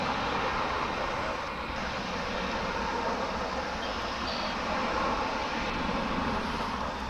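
An airplane at Dallas/Fort Worth International Airport gives off a broad, steady roar of jet engine noise that stays even and fairly distant throughout.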